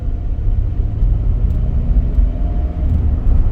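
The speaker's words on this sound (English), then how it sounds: "listen to the sounds of traffic" Continuous low rumble of road traffic heard from inside a moving vehicle, steady and fairly loud with no voices.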